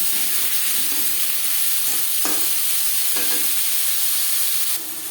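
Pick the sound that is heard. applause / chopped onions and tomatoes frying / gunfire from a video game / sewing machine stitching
chopped onions and tomatoes frying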